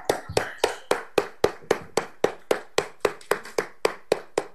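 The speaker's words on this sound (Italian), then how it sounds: "Un applauso per Lucia." Steady, rhythmic hand clapping in applause for a woman named Lucia, with sharp, close claps at an even, brisk pace of roughly four per second and no voices over them.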